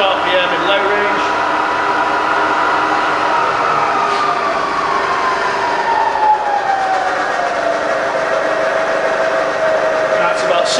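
A rebuilt Bridgeport milling machine runs in low range at 300 RPM, giving a steady, continuous mechanical hum with a faint whine that slowly drops in pitch.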